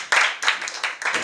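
A classroom of pupils breaks into short bursts of clapping, a few quick rounds of applause close by, lasting about a second.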